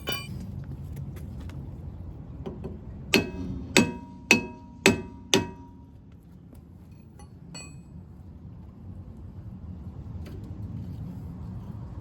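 A brass hammer raps the edge of a rear brake drum on a 2003-2008 Toyota Corolla, five sharp metallic clangs in quick succession, close and loud, over quiet workshop background.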